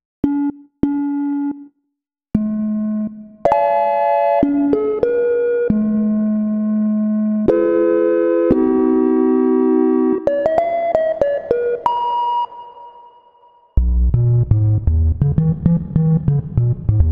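A synthesized sample-based tone with reverb played in PreSonus Studio One 5 Sample One: a sequence of loud sustained electronic notes with clean harmonics, a reverberant tail fading out, then a denser run of punchy repeated notes.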